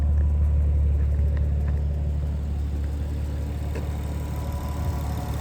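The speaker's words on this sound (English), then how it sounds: "It is an aftermarket exhaust, I believe, but it's a very low sounding vehicle." A 1996 Nissan Skyline R33 with an RB25DET engine and aftermarket exhaust idles with a deep, steady low rumble, a constant throaty drone with no voices.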